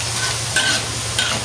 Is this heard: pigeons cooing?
no